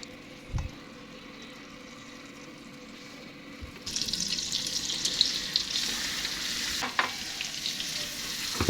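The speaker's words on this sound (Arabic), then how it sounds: "هنسيح الزبدة." Butter melting in a pan starts a steady, close crackling sizzle partway through, after a quieter stretch with a couple of faint knocks, and keeps going with no voices.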